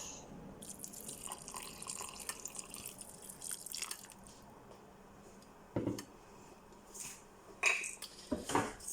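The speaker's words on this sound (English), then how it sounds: "Now we're going to add our stock." Stock pours into a pot of githeri, the Kenyan bean and maize dish, with soft trickling and dripping and a few clinks of metal utensils against the pot, fairly quiet and with no talking.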